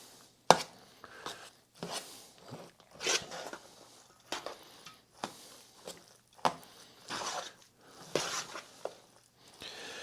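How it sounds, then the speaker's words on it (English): A spoon working through wet Thanksgiving cornbread dressing in a pan, making repeated soft scraping and clacking strokes at an irregular rhythm, close and fairly quiet. "we're going to stir it up and see if we've got it wet enough"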